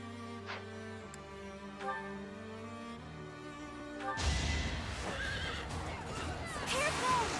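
A horse in Fire Emblem Three Houses gives a clear neigh, then a second, over soft game music, before louder battle sounds take over.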